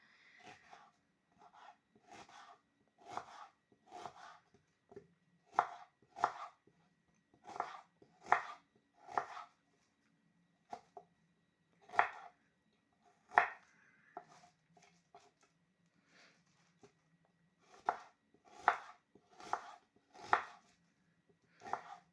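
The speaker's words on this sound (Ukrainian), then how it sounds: "нарізаємо цибулю" A knife chops onion on a board in clusters of crisp, close taps, short bursts of several strokes separated by pauses, with a steady uneven rhythm throughout.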